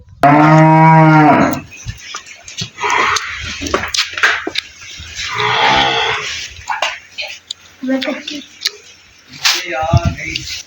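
A buffalo gives a loud, close, drawn-out moo near the start, followed by spoken talk with splashing water and fainter animal sounds.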